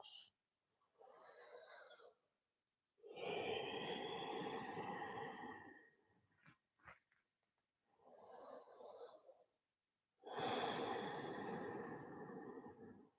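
Slow, deep breaths during a morning yoga stretch, each long airy inhale and exhale rising and falling with soft nasal snore-like texture, separated by short pauses and one quick pair of sniffs, close and fairly quiet.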